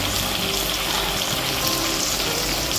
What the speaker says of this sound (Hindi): चिकन को डालेगा, इसको वैसे हाफ फ्राई करके रखेगा.